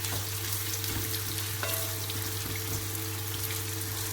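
Fresh eggplant is browning in a hot pan for a tomato salad, giving a close, steady crackling sizzle with scattered pops and a constant low hum beneath, with no voices.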